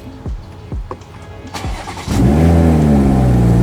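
A Toyota Supra engine catches after several short starter cranks, then settles into a steady, loud idle close by.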